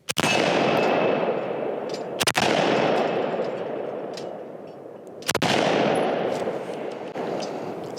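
A Remington 742 Woodsmaster semi-automatic rifle fires three loud, sharp shots a few seconds apart outdoors, each blast followed by a long rolling echo.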